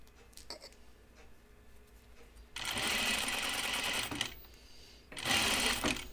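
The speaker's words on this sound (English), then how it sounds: "So just remember to stitch so that all your serging is in the seam allowance." A serger stitches the seams of a 1940s-style dress. After a quiet stretch, two loud, dense bursts of rapid machine whirring come from close by, with a brief pause between them.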